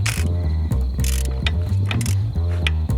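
Ratchet wrench tightening the lock nut on a motorcycle kickstand bolt, Yamaha TW200: a rapid, close series of clicking ratchet strokes in an even rhythm, loud and alone, over a low background hum.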